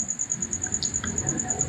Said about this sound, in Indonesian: Dengar suara jangkrik